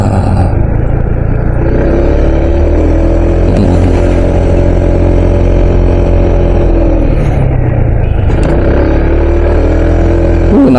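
A motorcycle engine labouring up a steep hill trail, a loud, close, sustained drone that rises and dips slightly in pitch as the rider works the throttle, with no voices.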